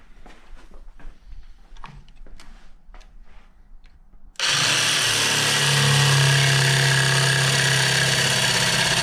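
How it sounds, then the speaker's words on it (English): A jigsaw cuts into an engine bell housing during a K24 engine swap into a Nissan S14. Faint handling knocks give way to a sudden loud, steady buzzing drone that runs on unbroken. "try to come back in with the jigsaw and work our way around"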